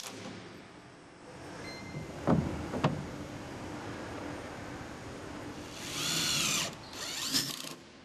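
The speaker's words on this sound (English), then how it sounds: "fasten the second row at each joist along the screw ledge" A power drill drives screws through decking boards into the joists, two short sharp bursts followed by longer whirring runs, close and fairly loud against a quiet outdoor background.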